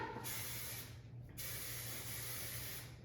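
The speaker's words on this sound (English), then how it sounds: "I'm gonna spray it" Two bursts of hissing aerosol hairspray, a short one then a long steady one, close by with a faint hum beneath.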